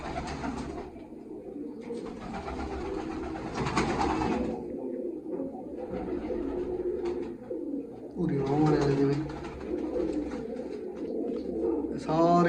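Large pigeons kept for sale coo repeatedly in soft, throaty bursts nearby, with other birds and a voice talking intermittently over them.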